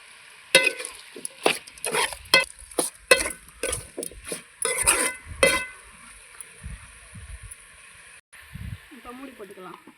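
Chicken curry with turmeric frying in a pan, sharp scraping stirs and brief sizzling bursts in an irregular run, close and loud, then quieter stirring while someone talks.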